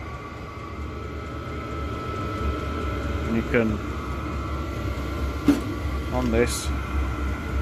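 A cheap Chinese diesel heater runs in a garage with a steady droning whoosh like a jet engine, beeps and button clicks sounding over it while someone talks.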